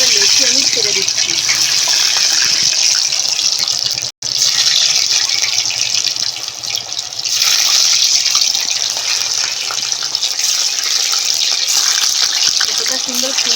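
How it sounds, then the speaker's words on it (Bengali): Small pieces of flour dough dropped into hot oil for frying sizzle with a loud, steady hiss that runs almost unbroken, with one brief cutout partway through. "এদিকে তেল গরম হয়ে গেছে, তেলের মধ্যে একটা একটা করে লেচি আমি ছেড়ে দিচ্ছি।"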